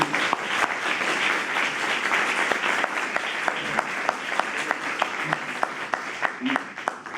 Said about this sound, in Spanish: vamos a dar un aplauso, desde luego, a Juan